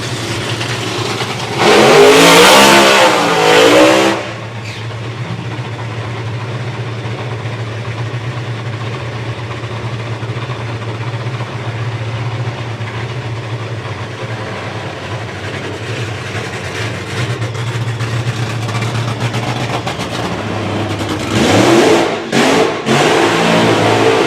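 A nitro funny car at a drag racing event blasts loudly in two short revving bursts at the start and end, with a heavy low engine rumble droning steadily in between.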